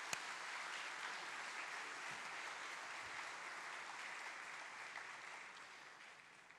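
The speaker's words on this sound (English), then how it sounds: "Please join me in giving them a round of applause for that great evening yesterday." A plenary audience at the Global Education and Skills Forum applauds a cultural evening, a dense, steady wash of clapping that holds throughout at moderate level and fades slightly at the end.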